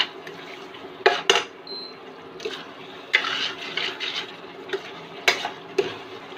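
A spoon scrapes and clatters in a cooking pot while potato rice is stirred, with several sharp metallic knocks and bursts of scraping spread through the stretch, close and fairly loud.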